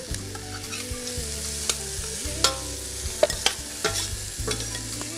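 Chicken breast frying in a pan, a constant near sizzle punctuated by repeated sharp clinks and scrapes of a utensil turning the pieces, no voices.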